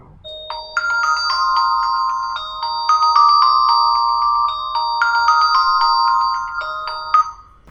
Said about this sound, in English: Let's play some ringtone and see.